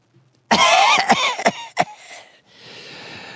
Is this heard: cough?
yes